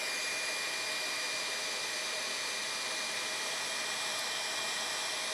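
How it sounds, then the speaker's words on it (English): A heat embossing gun blows hot air in one continuous, even whoosh with a steady fan hum, close and alone for the whole stretch. "let that gun heat up a little bit"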